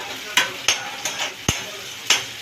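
Onions frying in a pan for ridge gourd curry as a spoon scrapes and taps through them in a loose rhythm, about six sharp strokes over a continuous close sizzle.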